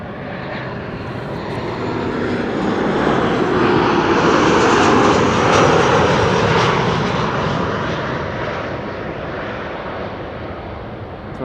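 A Transavia airliner arriving from Salzburg at Amsterdam Schiphol passes overhead, its engine roar swelling to a peak at mid-clip and then fading, steady and alone.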